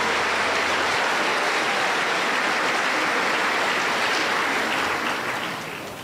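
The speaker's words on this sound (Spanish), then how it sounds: "lo recibimos con fuerte aplauso para el Señor Jesús" Strong, sustained applause greets a men's choir at a Pentecostal church anniversary campaign service in Huancayo, a dense wash of many hands clapping that stays loud throughout and fades slightly at the end.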